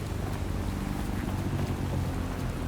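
Rain pours across a city street in Watch Dogs Legion, a dense, even wash of falling water with a low wind-like rumble beneath and no pauses.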